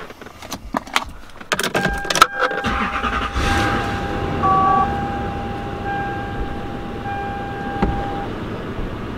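A Lexus LS400 cranks and fires up close by after a few clicks and jingles, then settles into a steady idle with a faint whine, without clear revving.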